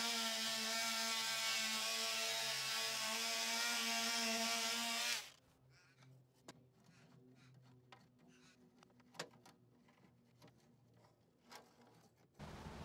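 A hand sanding block scrapes over a damaged door frame, a steady rough sanding hiss that stops partway through, leaving faint scattered clicks and taps nearby.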